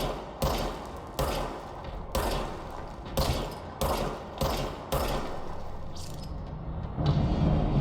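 Repeated heavy gunshots from a player's weapon in the action game Control, about eight loud booming blasts at an irregular steady pace, each with a short echoing tail, followed by a denser burst at the end.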